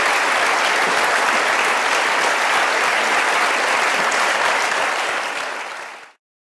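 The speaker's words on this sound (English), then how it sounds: "give a round of applause for Tim" A large audience applauds after a question-and-answer session, a loud, continuous wash of clapping that holds steady before tapering and cutting off near the end.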